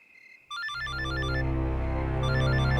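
An electronic phone ringtone starts abruptly and plays a bright, repeating melodic pattern, loud and steady, with no voices.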